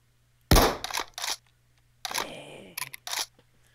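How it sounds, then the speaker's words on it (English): Gunshots from a weapon fired in a video game: a loud sharp blast followed by several quick shorter cracks, then after a pause another burst of shots with a rumbling tail, close and clear with no talking. "I'm gonna shoot something."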